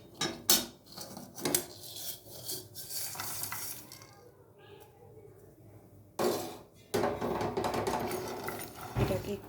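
Almonds and cashews stirred in a pan while heating, with scraping spatula strokes and rattling nuts coming in bursts, a quieter pause midway, then steadier stirring close by.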